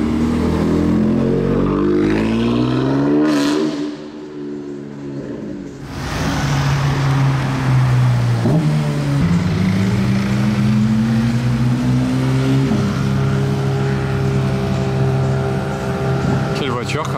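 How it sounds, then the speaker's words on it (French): A black car's exhaust revs loudly nearby, rising and falling engine tones sweeping up and down, then a sustained climbing note as it pulls away, with a brief quieter dip midway. "Je pense qu'on va entendre son échappement, lui."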